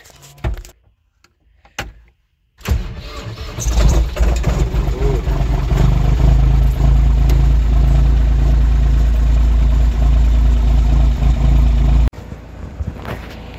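A small runaround farm tractor engine is started after a few knocks and clatters. It catches and settles into a loud, steady, close-up running rumble for several seconds, then cuts down near the end.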